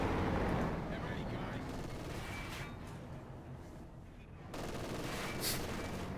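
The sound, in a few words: machine gun fire in Company of Heroes 2 video game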